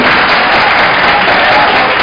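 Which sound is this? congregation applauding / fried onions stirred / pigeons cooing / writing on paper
congregation applauding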